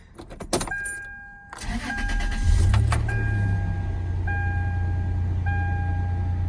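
A 2003 Toyota Tacoma setting off on a test drive: clicks and a door shutting, chimes, then the engine starting and settling into a steady idle hum close by.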